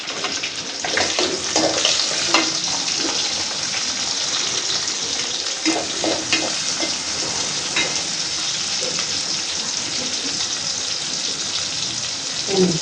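Pointed gourd with spice paste sizzling in hot oil in a home kitchen, a steady loud crackling hiss that continues throughout with scattered pops.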